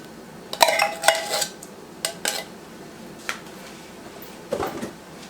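Two eggs and canned cream-style corn are stirred into Mexican cornbread batter, giving a few close clinks and scrapes of a utensil against a bowl in separate bursts with quiet gaps between them.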